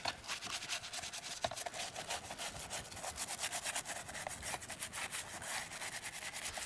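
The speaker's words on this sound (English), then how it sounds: "take some of this Dawn dish soap and just kind of scrub it a little bit in here" The inside of a retro computer case gets scrubbed with Dawn dish soap, a close, steady run of quick back-and-forth rubbing strokes in an even rhythm with a couple of light knocks.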